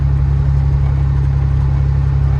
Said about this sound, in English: I'm sort of just idling in here,